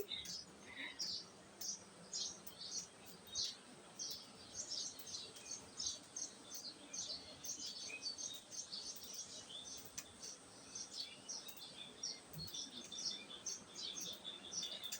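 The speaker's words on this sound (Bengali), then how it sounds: "এখানে আসলে পাখির কিচিমিচি শব্দ ছাড়া আসলে কিছুই নেই" Birds chirp and tweet again and again in quick high bursts, fairly close, over quiet outdoor background in a village with no talking.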